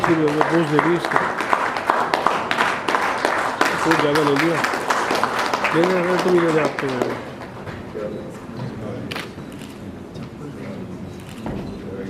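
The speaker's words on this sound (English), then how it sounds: "A round of applause for Mrs. Manjeet." An audience at an award ceremony claps for an honoree, a busy crackle of many hands under music and voices that thins out over the second half.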